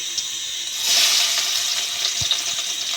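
Mustard seeds, cumin and crushed garlic sizzle in hot oil in a pan for a bitter gourd stir-fry, a steady bright hiss that swells briefly, with a few small pops and clinks.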